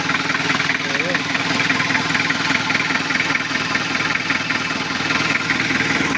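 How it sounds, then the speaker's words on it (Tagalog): A Toyota 3L diesel engine in a 1991 Hilux idles with a steady, rough clatter, close and loud, while someone talks over it. "malakas pa ang makina nito."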